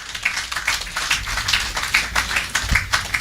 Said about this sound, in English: Give the Minister a rousing round of applause.